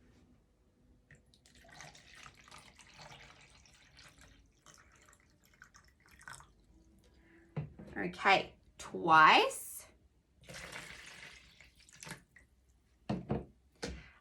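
Water poured from a container into a 350 ml measuring container during a classroom capacity lesson, quiet at first, then a few louder splashing pours around the middle and some brief bursts at the end, with occasional talk.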